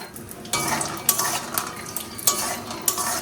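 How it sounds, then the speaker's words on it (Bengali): Peanuts sizzle and rattle in a hot pan as a spoon stirs them, with scraping clinks against the metal at irregular intervals. "তার জন্য বাদাম ভেজে নিচ্ছি"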